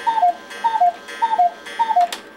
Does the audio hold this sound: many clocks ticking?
yes